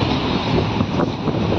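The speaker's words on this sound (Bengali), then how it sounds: "ট্রেন যাচ্ছে" A moving train rumbles steadily with broadband rolling noise and wind buffeting, continuous and fairly loud throughout, with no voices.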